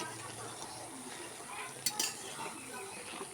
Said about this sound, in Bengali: আলতো হাতে এরকম করে একটু নাড়াচাড়া দিলাম